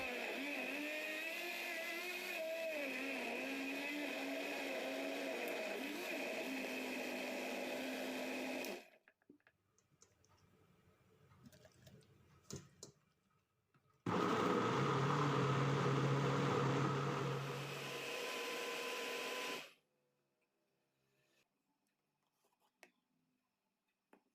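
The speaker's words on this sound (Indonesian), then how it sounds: "menekan buah nanas yang ada di dalam blender sampai airnya keluar dan pisau blendernya bisa berputar" Kitchen blender crushing pineapple for homemade jam, loud whirring bursts that strain and shift pitch, with a pause of quiet knocking between the two runs before the motor stops and silence follows.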